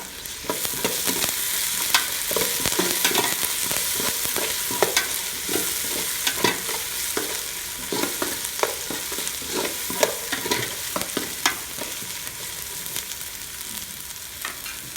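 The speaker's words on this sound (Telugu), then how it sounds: "పేస్ట్ వేసుకొని మంచిగా కలుపుకోవాలి" Spice paste is stirred into frying Telangana spicy chicken curry, giving a constant sizzle broken by a rapid series of close, rhythmic scrapes and knocks of a spoon against the pan.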